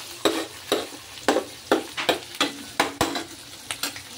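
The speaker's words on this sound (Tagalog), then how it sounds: "Pwede na natin itong igisa bawang sibuyas." Garlic and onion are sautéed in a pan, a soft sizzle broken by about a dozen sharp spatula scrapes and taps in a quick, uneven rhythm, close up and without talk.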